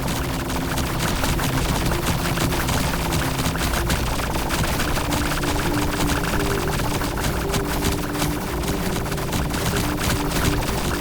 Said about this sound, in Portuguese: Quase morri na explosão aqui.